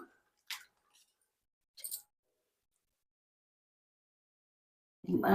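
Cissus quadrangularis (nalleru) stems rinsed in a bowl of water: a few sparse, short wet squishes and drips separated by silence, then a louder splashing swirl at the end.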